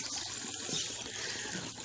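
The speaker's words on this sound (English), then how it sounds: "it's got a waterfall" A small waterfall in a garden fish pond splashes and burbles continuously, a steady close trickling wash of water with no voices.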